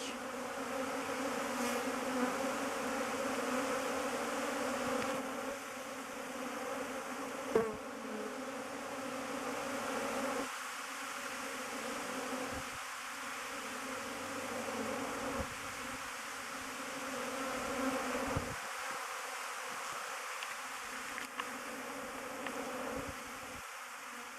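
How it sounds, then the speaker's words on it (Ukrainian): Buckfast honeybees pour out of the hive on an orientation flight, a dense steady buzzing swarm close by that hums continuously throughout, with individual bees passing near and fading. "Так обльотується бакфаст. О, Просто виходять як на рій."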